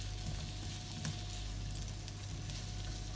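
Braising steak sizzles and sears in a pan over a cast iron chiminea outdoors, a steady, low, continuous crackle with a faint background hum and no talking.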